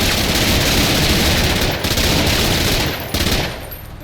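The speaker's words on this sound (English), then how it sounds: "Let's see how this SMG performs." Loud, dense SMG gunfire in the tactical video game MENACE, a sustained fusillade of rapid overlapping shots that keeps going for about three seconds and then tapers slightly.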